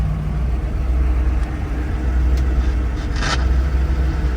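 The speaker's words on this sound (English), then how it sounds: "Very healthy acceleration, great sound of the motor, very healthy" A 1963 Chevrolet Corvette Fuelie engine accelerating, heard as a steady, loud, close low-pitched engine rumble with a few faint higher clicks, no voices present.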